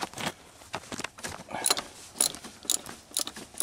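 A ratchet drives a special 32 mm GM socket while working on a Chevrolet Malibu, giving short bursts of clicking and ratcheting strokes with brief pauses between them, close up and with no talk.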